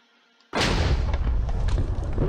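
A 15.5 cm cannon in the Minecraft MCHeli mod fires a single loud, booming blast that starts abruptly after a short quiet moment and leaves a long, rumbling decay.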